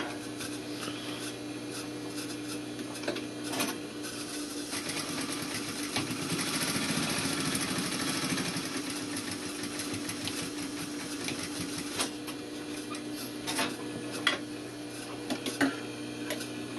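Sewing machine running steadily along a straight seam of a welt pocket, with a back tack at each end; a continuous mechanical hum with faint ticking, no talk.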